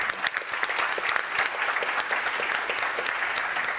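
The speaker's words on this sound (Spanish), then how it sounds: "Le pido un aplauso a Carmen, que está aquí presente, por favor." An audience at a book presentation during the Sitges 2022 festival applauds, producing brisk, continuous clapping that stays even and fairly close throughout the short burst.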